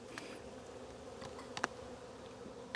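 Honey bees buzz steadily at an opened, strong hive during an early-spring inspection, a dense continuous hum close by with a few brief knocks and clicks from handling the boxes.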